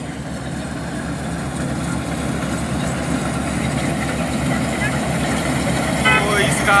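A combine harvester cutting paddy in a field drones with a steady low engine rumble and mechanical clatter that builds slightly louder over the span, with no break.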